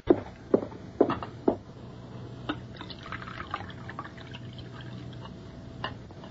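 Coffee poured into a cup in a quiet room: a few short clinks of china at the start, then a soft, steady trickle of liquid filling the cup, close and gentle.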